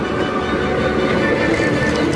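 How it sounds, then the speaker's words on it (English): A train rolls in with a steady, loud rumbling roar of rail noise, continuous and close throughout, with no talking over it. "There's the train!"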